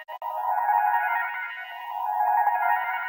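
A drum texture built in FL Studio and drenched in heavy reverb plus the Portal effect plugin, giving a washed-out, shimmering ambient drone with smeared echoing tones that swell and sustain continuously.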